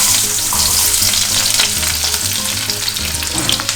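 Onions frying in a pan in a professional hotel kitchen, a steady loud sizzle with occasional stirring scrapes throughout, no voices.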